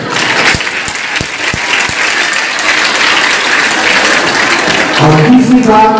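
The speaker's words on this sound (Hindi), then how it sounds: "ये ताली आपकी खुशी का आगाज है।" An audience at a Buddhist women's conference in Hisar gives loud, sustained applause, starting with a few separate claps that build into dense clapping before a voice begins speaking near the end.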